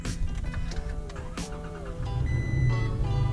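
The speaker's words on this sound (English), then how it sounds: "A little cold start action there." A 2018 Toyota Tacoma truck engine cold-starts: a brief whirring crank and catch, then a steady idle that rises and settles, heard up close from inside the cab alongside faint chimes.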